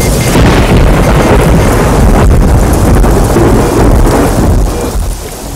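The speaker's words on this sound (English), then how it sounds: "It's raining heavily" Heavy rain pours down in a loud, dense roar, with low rumbling thunder rolling through it continuously and easing slightly near the end, no voices present.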